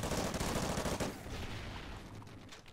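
Rapid gunfire rattles in a Call of Duty: Ghosts multiplayer match, a dense burst of close shots for about a second before fading into quieter game ambience.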